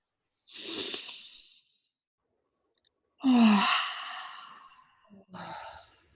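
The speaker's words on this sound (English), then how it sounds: "And I place the hands on the face and then I breathe in." Slow, deep breathing with the hands placed over the face: a long airy breath, a pause, then a deeper breath and a shorter one, heard close and quiet with no talking.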